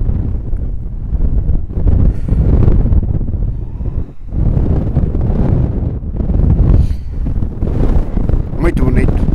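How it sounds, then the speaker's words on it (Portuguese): Strong gusty wind blows across a foggy, snowy mountain top, buffeting the microphone in loud, surging roars that rise and fall in waves. "Estou a ver aqui, está vento."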